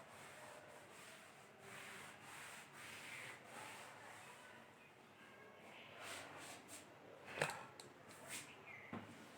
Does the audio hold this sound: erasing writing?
yes